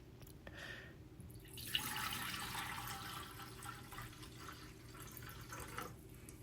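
Cloudy rice-washing water from the third rinse is poured for kimchi stew. A soft, steady liquid pour and splash starts after a quiet drip and runs on evenly to the end, fairly faint and close.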